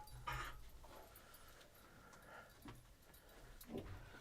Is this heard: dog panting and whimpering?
yes